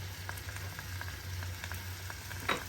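Mixed pasta ingredients fry in a pan with a steady close sizzle and faint periodic pops, then a brief louder crackle near the end.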